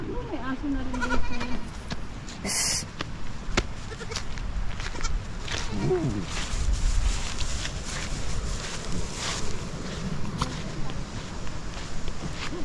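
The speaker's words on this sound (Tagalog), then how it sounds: "mga puting kambing" White goats at a rural sitio birthday gathering bleat a few times, nearby but not loud, mixed with people chatting, footsteps and light wind.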